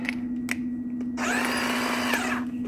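A DeWalt drill bores with a 21/64 bit into drum kit hardware during thread repair, a steady whirring burst of about a second under a constant low electrical hum, with a few faint clicks before it.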